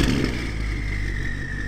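A BMW M5 Competition engine roars loudly and steadily up close, a dense continuous rumble with a sustained high tone riding over it throughout.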